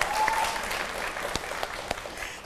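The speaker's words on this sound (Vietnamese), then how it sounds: "Vỗ tay" A small group of people claps briefly and fairly quietly, a soft patter of hand claps with a few sharper individual claps standing out.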